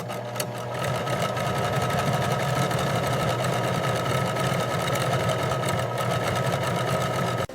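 Industrial sewing machine stitching a school bag in a bag factory, a steady fast mechanical whirring hum with rapid needle clatter, close and continuous, ending in a brief clunk.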